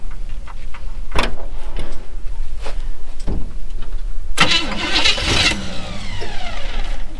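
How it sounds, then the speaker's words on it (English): Engine of a Chevrolet C10 truck cranking over with the fuel pump and ignition live, loud bursts of starter churn and sputter, surging around the middle before a rough, wavering run. "Just for fun, let's see how easy it cranks back."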